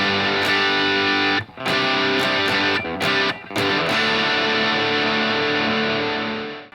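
Loud distorted electric guitar switching back and forth between two chords in a rock style, with a few brief choppy breaks between strums before a long ringing final chord fades.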